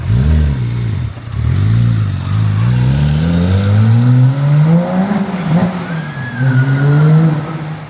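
A Porsche GT3 RS with a 3.8-litre engine revs up loudly and climbs in pitch as it passes close by in Monaco, its roar sweeping higher then fading slightly.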